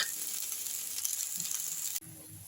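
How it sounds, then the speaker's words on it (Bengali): Cumin, coriander, chili, ginger and garlic paste fries in oil in a pan for rajma curry, a faint, steady hiss of sizzling that cuts off abruptly near the end, quiet and with no voices. "এবার জিরে, ধনে, লঙ্কার সঙ্গে আদা রসুনটা আর একটু কষে নিচ্ছি আমি"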